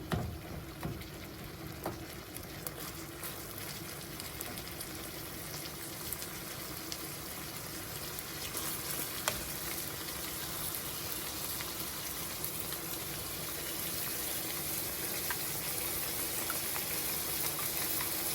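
Ground beef and pork fry in a skillet, a soft, continuous sizzle and crackle with occasional sharper pops, faint and steady throughout without talk.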